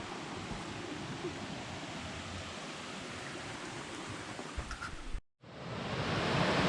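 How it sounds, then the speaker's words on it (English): Martin Creek Falls, a waterfall on a hiking trail in northeast Georgia, roars as a steady broadband rush of falling water, close and loud, with a brief dropout near the end before the torrent swells back. "Martin Creek Falls."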